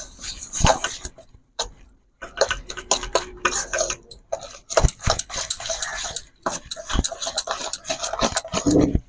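Cashew and poppy seed paste mixed with mustard oil by hand in a bowl gives irregular clinks, scrapes and wet squishes that start and stop, with a brief quiet pause and some faint background noise.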